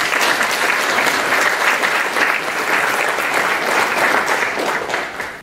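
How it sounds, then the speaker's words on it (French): Audience applause at a seminar, a dense, steady burst of clapping from many hands that holds loud throughout and eases slightly at the end, with no voices over it. "Je vous demande de les applaudir."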